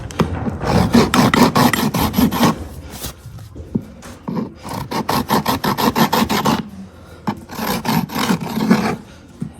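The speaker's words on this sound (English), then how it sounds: "Just gonna dub this toe off so she can break over it without taking any more hoof wall." A farrier files the toe of a laminitic horse's hoof with a rasp, rhythmic rough scraping strokes in fast repeated runs with a short pause in between, loud and close with no talk.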